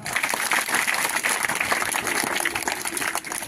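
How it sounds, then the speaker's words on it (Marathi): Loud, continuous applause from a crowd at a felicitation ceremony honoring newly appointed officers, dense clapping sustained without a break throughout. "जोरात टाळ्या."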